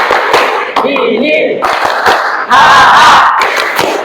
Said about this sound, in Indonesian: Kita ice breaking dengan tepuk senyum.